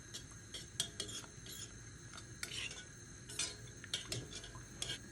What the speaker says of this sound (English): I'm going to add in the spices. Stir.